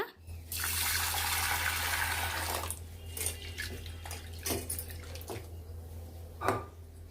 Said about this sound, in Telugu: ఫస్ట్ ఇక్కడ పప్పు అయితే కడిగి పెట్టేస్తున్నా